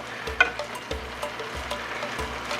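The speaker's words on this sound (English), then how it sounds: "the seared ham pieces along with some of the drippings from the sear in with this cabbage, and just let it fry and simmer" Seared ham pieces and their drippings frying and simmering with cabbage in a pot, giving a soft, steady sizzle with a few stirring scrapes and clinks, fairly quiet and close.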